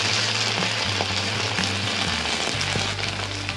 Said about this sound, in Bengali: এরপর আমরা এর মধ্যে একটা শুকনো লঙ্কাও দিয়ে দেবো, দিয়ে ভালো করে আমরা এগুলিকে ফ্রাই করে নেব